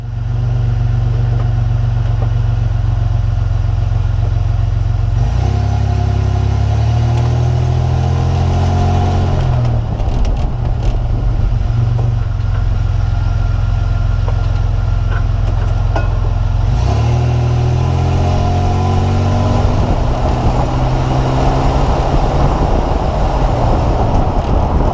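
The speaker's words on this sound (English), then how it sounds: "So let's take this thing for a test drive and see if anything improved." A 2003 Toyota Tacoma pickup with newly replaced leaf springs on a test drive, its engine droning steadily and rising through gears in repeated pulls, with road rumble throughout and no talk.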